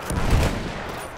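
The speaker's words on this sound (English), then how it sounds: "Someone's trying to shoot me." Heavy gunfire in a tank-era cavalry battle game, a dense low rumbling burst of shots that swells briefly and then trails into a steady roar of distant combat.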